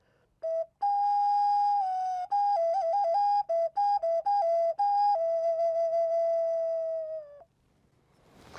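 A ceramic whistle with drilled holes plays a run of clear tones, opening with a short blast, then quick stepped pitch changes as fingers cover holes, ending in a long steady note, close and loud.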